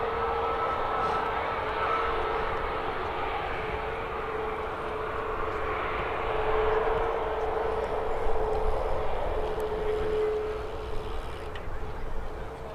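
Jet aircraft at Birmingham Airport, a steady broad roar with a sustained tone, swelling slightly mid-way as planes arrive and depart, moderately distant and continuous throughout.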